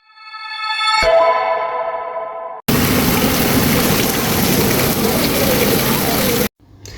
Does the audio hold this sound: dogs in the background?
no